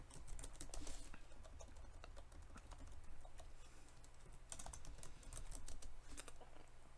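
Steady computer-keyboard typing of code in a programming tutorial, a run of close, quick key clicks with brief pauses and bursts, over a low constant room hum.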